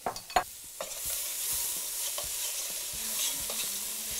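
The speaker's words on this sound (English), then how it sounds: "We're gonna add our finely minced carrots, celery, and onions to the pan with our pancetta to wilt down till nice and soft." Finely minced carrots, celery and onions sizzle with pancetta in a pan while a spoon stirs, scraping several times over a continuous, close frying hiss.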